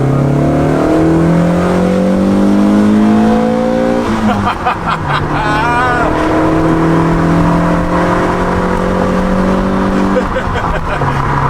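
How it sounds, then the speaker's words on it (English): Exhaust of a 1990 BMW M3 heard from inside with the windows down, loud engine note rising through the revs, dropping at a gear change and climbing again under acceleration. "Windows down, should be able to get a good clip of what the exhaust sounds like."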